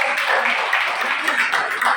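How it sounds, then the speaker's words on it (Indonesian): Applause from a church congregation during a sermon, a dense, steady wash of clapping that fills the whole stretch at even loudness with no clear pauses. "Tepuk tangan yang mulia."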